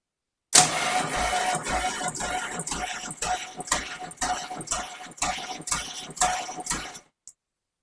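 A Triumph Trident T160 motorcycle engine cranks over slowly on a compression test with a weak battery, in a regular chug-chug rhythm for several seconds without firing, then stops abruptly, close and fairly loud.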